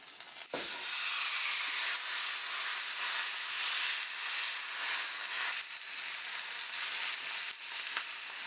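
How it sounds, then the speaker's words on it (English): A chuck roast sears in a hot pan with a strong, continuous close hiss and sizzle that keeps going for several seconds, rising and falling slightly, with a brief clunk at the start. "we're just going to give this a good sear on all of the sides."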